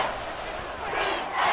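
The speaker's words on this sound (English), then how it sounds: "The crowd getting into it as we come up with a big 3rd down." A virtual stadium crowd in the football game Madden 24 roars steadily during a big third down, a dense, loud wash of cheering that swells near the end with no clear voices standing out.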